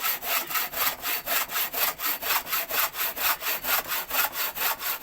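A Bahco Force 21-inch hand saw cuts through wood in fast, even strokes, about three rasping pulls per second, loud and close with no voices.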